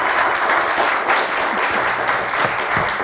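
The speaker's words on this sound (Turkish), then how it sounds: "Kocaman bir alkış." A studio audience at a television word-game show breaks into loud, sustained applause, a dense wash of clapping that stays steady from start to finish.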